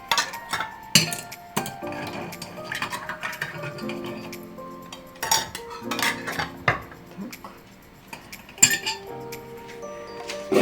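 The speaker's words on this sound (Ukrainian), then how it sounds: "Накриваю пастерилізованими кришками." Metal lids clink and clatter onto glass jars one after another, sharp bright taps with short pauses between them, close by and without any talking.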